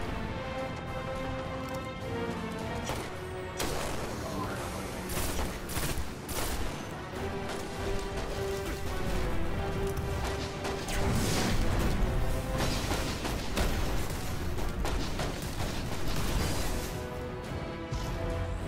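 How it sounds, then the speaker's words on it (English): Repeated shotgun blasts and crashing impacts from a firefight in the sci-fi shooter Destiny, loud and dense over a continuous game music and effects bed, with brief talk. "The shotgun is so good."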